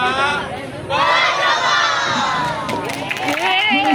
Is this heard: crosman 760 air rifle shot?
no